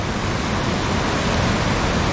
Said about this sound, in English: The waters are raging.